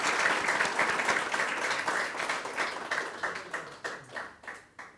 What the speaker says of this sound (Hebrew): מגיע לו כפיים לילד הזה